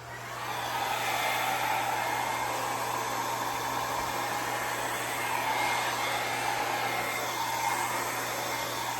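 A hair dryer blows with a steady, loud whooshing roar and a low motor hum, continuous throughout, while drying acrylic pour paint.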